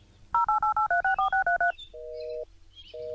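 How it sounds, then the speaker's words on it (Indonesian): A rapid run of about ten short dialing tones, followed by two long ringback tones separated by a pause; clear and close, with no talking. "Coba aku telepon Bapak Kos."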